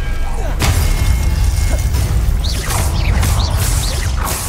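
A Glacius freezing spell cast in Hogwarts Legacy during a duel, a sharp whooshing strike followed by crackling, shattering bursts and swishes, loud and close, with voices speaking underneath.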